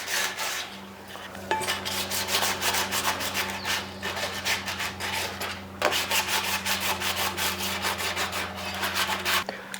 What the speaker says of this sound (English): rough up your product with your sanding block, or in my case, grip tape